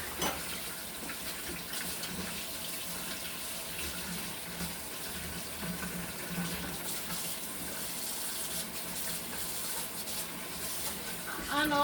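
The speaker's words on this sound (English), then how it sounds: "So, guys, let me just wash my hands." Hands being washed under a running kitchen tap, a steady, fairly quiet splashing hiss of water that continues throughout with faint background sounds.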